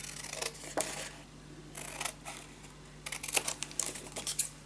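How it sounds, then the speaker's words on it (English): Scissors snipping through paper while trimming pieces for a Christmas scrapbook mini album, with several short crisp cutting bursts close by, including a quicker run of snips near the end, with no talking. "And then we're just gonna cut this piece"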